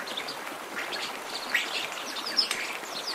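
Birds call and chirp in a spring valley below cliffs, with thin high calls and a couple of brief sharper notes rising over faint, steady outdoor ambience.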